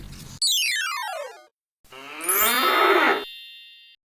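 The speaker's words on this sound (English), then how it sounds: "Buffalo, buffalo." A buffalo gives two loud, close mooing calls separated by a short silence, the second one longer and more strained.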